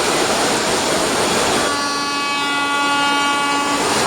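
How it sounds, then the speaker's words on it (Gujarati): A train passes during heavy monsoon rain: a loud wash of rain and rolling rail noise, then a sustained horn blast sounds over it partway through. "જો આટલા વરસાદમાં પણ એક ટ્રેન આવે છે,"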